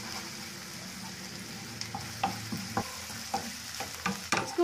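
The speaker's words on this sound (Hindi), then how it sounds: "इसको अब हम लाल होने तक फ्राई करेंगे, हल्का लाल होने तक" Onions frying in a pan for egg malai curry, a steady sizzle with scattered clicks and scrapes of stirring growing sharper toward the end, close and alone.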